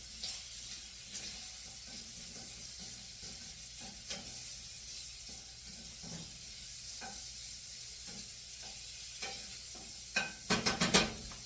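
Shrimp fry in a pan with a steady, moderate sizzle and hiss, joined by occasional stirring scrapes and a quick burst of clattering utensil taps near the end.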